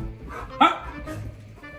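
An angry husky lets out a single sharp, loud bark close by, with quieter background noise before and after it.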